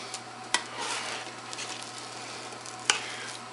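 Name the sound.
serving spoon scooping casserole mixture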